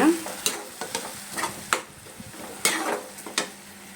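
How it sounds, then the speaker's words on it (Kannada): Tomato puree frying in a pan, a steady sizzle broken by repeated scraping stirs at a quick uneven rhythm, close and fairly loud with no voices. "ಒಂದು ಆರು ಟೊಮೊಟೊ ಹಣ್ಣನ್ನು ಪ್ಯೂರಿ ಮಾಡಿಕೊಂಡಿದ್ದೆ ಇದನ್ನು ಸ್ವಲ್ಪ ಹುರ್ಕೊಳ್ಳೋಣ"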